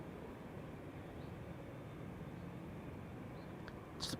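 A KLM airliner, registration PH-BKL, two years old, departs on flight 635 to Las Vegas from Schiphol's Polderbaan runway, a steady broadband jet roar filling the whole stretch at moderate distance, with a brief brighter hiss near the end.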